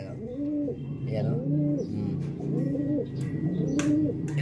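Large racing pigeon cock cooing close by, four repeated rising-and-falling coos in a slow, even rhythm, with faint background noise between calls.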